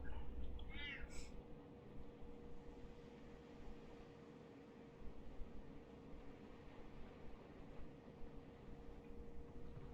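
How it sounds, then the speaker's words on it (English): Prue, a pet cat, meows quietly once or twice in the first seconds, close by, over a steady low room hum that continues through the rest of the clip. "I think my cat wants to come up on my lap"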